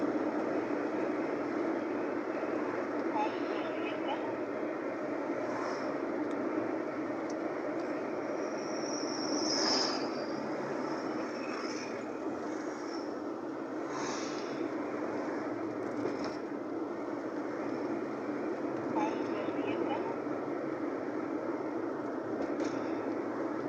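A train runs nearby as a steady, continuous rumble and rattle that fills the whole stretch, with a few brief high squeals rising over it and no voices.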